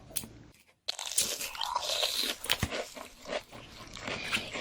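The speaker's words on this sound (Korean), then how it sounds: "나 요즘 다이어트 중인데 먹는 소리 좀 자제해주라" Loud, close crunchy chewing of cheese balls, with a brief pause near the start followed by dense, irregular bites and crackly crunches, and no talking.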